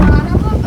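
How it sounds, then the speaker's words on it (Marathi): Strong wind gusting during an unseasonal storm in a Konkan village, a loud, steady low roar buffeting the microphone with no pauses. "डेंजर वारा सुटला आहे."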